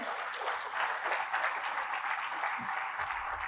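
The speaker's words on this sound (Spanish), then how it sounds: "Vamos a dar un fuerte aplauso" A church congregation gives warm, sustained applause, a dense steady clapping that fills the room from start to finish with no voices over it.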